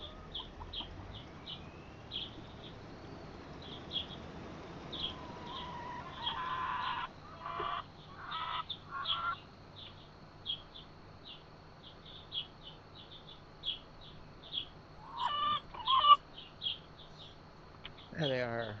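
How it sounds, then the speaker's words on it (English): Chickens in the Farming Simulator 25 game cluck softly in short repeated calls over a faint ambient bed, with someone talking at intervals over them. "There they are, all the chickens hanging out."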